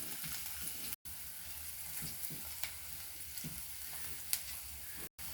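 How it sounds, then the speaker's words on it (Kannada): Garlic and two dried red chillies fry in oil for garlic rasam, a faint, steady sizzling hiss with occasional light stirring ticks, briefly cut out twice. "ಇವಾಗಲೇ ಆಯಿಲಲ್ಲಿ ಫ್ರೈ ಮಾಡ್ತಾ ಇರಬೇಕಿದ್ರೆ"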